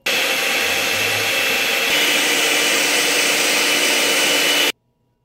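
Six egg whites being beaten with an electric mixer for nopal and beef tortitas, a steady loud motor whir running continuously for several seconds and then cutting off abruptly.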